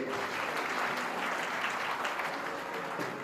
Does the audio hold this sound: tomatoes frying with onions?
no